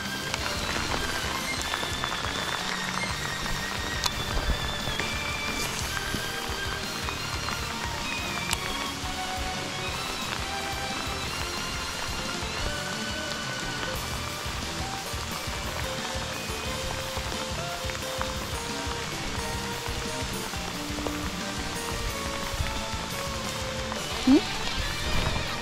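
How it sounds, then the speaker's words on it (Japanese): Heavy summer downpour on the Ikehara Dam lake, a dense steady patter of raindrops on water and surfaces that holds constant throughout, with occasional faint voices underneath. "恵みの雨だ。"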